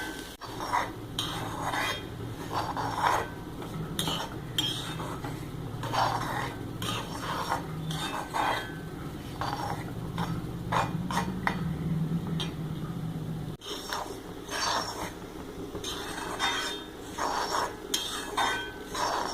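Grated coconut is stirred continuously in a pan over a low flame while roasting for a tuna fish curry. A spoon scrapes steadily, with frequent metallic clinks and taps against the pan and a soft sizzle underneath.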